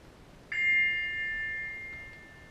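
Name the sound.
text message notification ding in stage production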